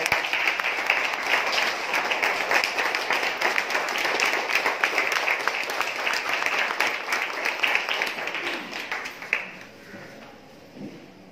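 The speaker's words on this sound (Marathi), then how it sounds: "सर्वांनी जोरात टाळ्या वाजवायच्या." Sustained loud applause from an audience at a Marathi-language school function honouring guests, dense steady clapping for about nine seconds before thinning out near the end.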